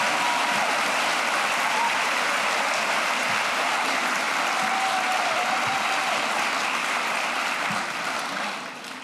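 A school audience gives sustained, dense applause for a student panelist walking to the stage, loud and even throughout before tapering slightly at the end.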